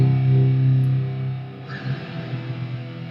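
Electric guitar chord with reverb set to maximum, ringing loud and sustained for about a second, then decaying into a washy, smeared tail with softer notes continuing.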